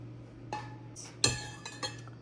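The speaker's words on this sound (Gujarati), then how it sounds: "હવે એને કાઢી લઈએ પ્લેટમાં ને વઘાર કરીએ" Roasted semolina being scooped from the pan onto a plate while making instant upma, giving a few sharp metal-on-steel clinks and scrapes spread over two seconds against a low steady hum.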